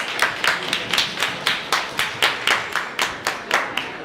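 Hands clap at a poker tournament final table for the winner, a steady run of sharp, evenly spaced claps about twice per second, fairly close and alone without talk.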